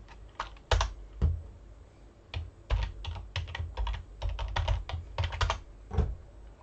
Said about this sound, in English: Type your password, mine is secret. Whoops, but I just can't type.